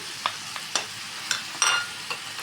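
Filling stirred and frying in a pot, with soft sizzling and several short scraping stir strokes spread across a couple of seconds, close and fairly quiet.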